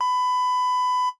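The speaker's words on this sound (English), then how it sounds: "I'll bleep the whole joke." A steady, loud censor bleep tone covering a joke on a podcast, holding for about a second before cutting off abruptly, with no voices over it.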